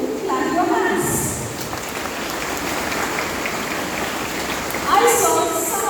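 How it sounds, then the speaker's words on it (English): A group of children claps hands together in a scattered, rain-like burst lasting a few seconds, with voices around the clapping. "So all of you, clap your hands."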